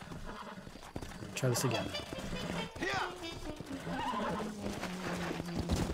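Horse whinnying and hooves clip-clopping in the video game Red Dead Redemption, loud neighs over busy game sounds while a player speaks briefly.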